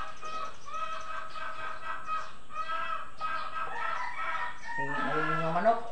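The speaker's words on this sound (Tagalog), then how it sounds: "Ayun yung manok." A rooster crows near a home in the Philippines, its rising-and-falling call repeated several times over a steady background, with a louder, lower-pitched crow near the end; no clear talk accompanies it.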